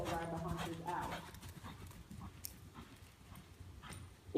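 Horse hooves clip-clopping on an arena during a riding session, rhythmic soft footfalls at a moderate distance under people talking, with a faint whinny-like sound.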